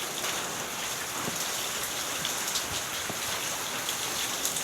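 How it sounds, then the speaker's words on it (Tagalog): Steady rain falling and pattering on surfaces outdoors, a continuous soft hiss with scattered closer drops, moderately loud and unbroken, with no voices. "Umuulan."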